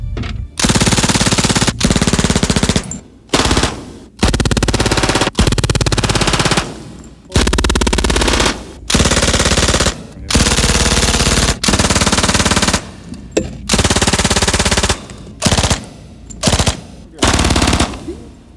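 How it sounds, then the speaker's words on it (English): A full-auto machine gun fed from a 20-round magazine or a 50-round drum fires loud sustained bursts, separated by short pauses, over roughly eighteen seconds. "It fires either from a clip magazine like this, which carries 20 rounds, or a drum like this, which carries 50 rounds"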